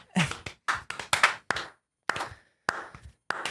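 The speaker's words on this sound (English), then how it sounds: "We should clap for that." A few people in an office clap and slap hands to mark a ten-year work anniversary: about eight sharp, close, separate smacks in an uneven rhythm, with short gaps of silence between them and no talking.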